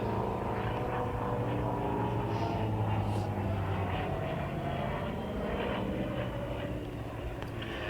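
A Hawker Sea Fury with a 2,500-horsepower Bristol Centaurus 18 piston engine flies at an airshow, giving a continuous loud propeller drone that stays steady throughout.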